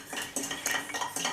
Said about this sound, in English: So I will stir this for a short while and cover it up